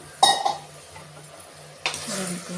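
Radish pieces are stirred in a metal cooking pan with a utensil, producing two distinct clattering scrapes separated by a quiet pause, close and fairly light.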